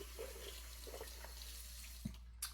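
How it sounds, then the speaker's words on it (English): Water runs steadily from a bathroom tap as a razor is rinsed under it, a close, continuous splashing flow with a couple of brief knocks near the end. "let me rinse off"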